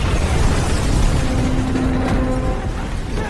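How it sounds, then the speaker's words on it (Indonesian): A loud, rumbling explosion roars throughout, deep and sustained, with a faint tonal whine rising briefly in the middle. "ledakan itu memisahkan mereka"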